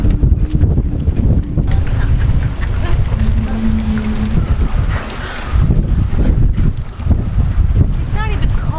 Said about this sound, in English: It's not even cold. It's just windy.